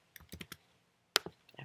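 Computer mouse clicks and keyboard keystrokes while changing domain name servers, a short cluster of light clicks followed by a brighter click and a few softer taps, close and quiet.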